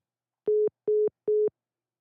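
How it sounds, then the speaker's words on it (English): A telephone call plays three identical steady electronic tones, evenly spaced and clean, with no talking over them. "while the phone rings."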